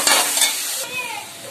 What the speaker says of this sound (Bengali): দিলাম একটু নুন, ভালো করে ভেজে নিচ্ছি।